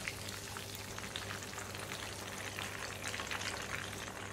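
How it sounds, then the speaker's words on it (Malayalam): Prawns deep frying in hot oil give a steady, dense crackle and bubbling hiss, fairly quiet and continuous without pause, with no voices present. "ഇത് വളരെ പെട്ടെന്ന് തന്നെ ഫ്രൈ ആയി കിട്ടും."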